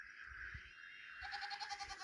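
Goats and ducks on a farm make faint bleating calls, with a wavering, pulsing cry near the end over low outdoor background noise.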